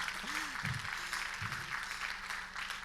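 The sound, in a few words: audience applause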